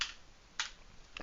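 Three short bursts of computer keyboard typing, quiet and close, separated by pauses in an otherwise hushed room.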